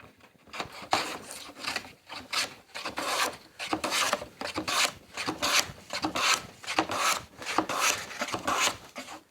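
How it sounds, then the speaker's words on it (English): A hand plane shaves a thin piece of wood held in a narrow holding jig, giving repeated rasping strokes in a steady back-and-forth rhythm, close and fairly quiet, with no talking. "then I'll get my plane out, and that will at least get it down to a lower profile than it currently is"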